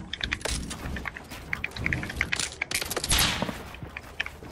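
Gunfire in a game, rapid irregular bursts of sharp cracks and shots scattered across a few seconds, close and fairly loud with overlapping volleys.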